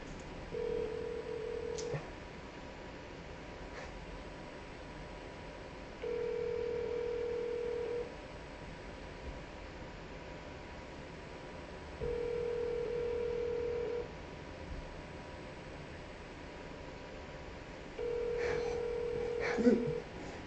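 An outgoing phone call rings out: a steady ringback tone repeats in four evenly spaced bursts, each about two seconds long and six seconds apart, under faint background noise, with brief clicks near the end.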